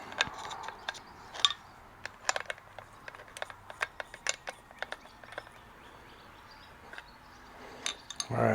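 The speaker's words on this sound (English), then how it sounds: "I should be able to pump this thing both directions" A hand pump on the cab jack of a 1985 Kenworth cabover truck is worked by hand, giving a steady series of light metallic clicks and ratcheting ticks up close, with no talking.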